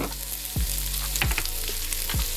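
Carrots and celery sauté in a pot with minced garlic, giving a steady close sizzle broken by several sharp stirring scrapes, with no talking.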